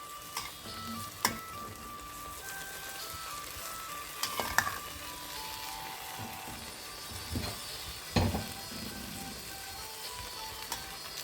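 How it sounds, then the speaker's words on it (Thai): Chicken and vegetables being stir-fried in a hot pan make a soft, continuous sizzle broken by occasional sharp spatula clacks against the pan, fairly quiet and close. "ผัดลงไปเลย ผัดร้อนๆร้อนๆอร่อยนะคะ"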